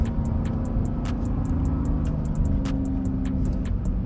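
Dodge Durango R/T driving at night in city streets, a loud steady engine drone and road rumble from inside the cabin, with regular rhythmic ticking over the top.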